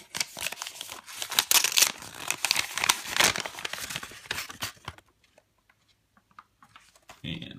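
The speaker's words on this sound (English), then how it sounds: "Go ahead and give that a little tear." Paper envelope being torn open by hand for a few seconds, a dense run of ripping and crinkling that stops abruptly, followed by near silence and a faint rustle at the end.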